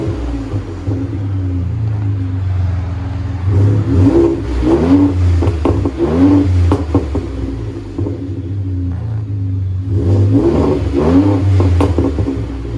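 A Ford F-150 3.5L EcoBoost twin-turbo V6 fitted with a Borla Pro XS exhaust revs in deep, rumbling swells heard from inside the cab, two rises in engine pitch separated by a steady idle, loud and close.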